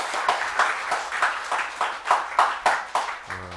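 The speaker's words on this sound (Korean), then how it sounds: "다시 한번 선생님들한테 격려와 응원의 박수 했으면 좋겠습니다" A church congregation at a Sunday graduation service claps for the teachers in slow, distinct, rhythmic beats, fairly close and loud, ending with a brief tone at the close.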